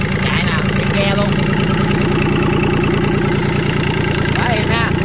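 A small diesel boat engine, a Yanmar 3T68 or Kubota 855 rated at 19 hp, runs loud and close at raised throttle with a steady, rapid chugging drone, while voices briefly speak over it.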